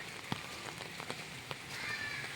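Rain falls steadily in Adirampattinam, a soft, even hiss of drops on surfaces with scattered louder individual drips, quiet and continuous throughout.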